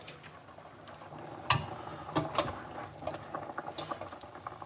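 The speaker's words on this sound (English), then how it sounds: "It's boiling." Chicken simmering in a pot during traditional Xhosa home cooking, a steady close bubbling patter with a few sharper pops and splashes, no talk over it.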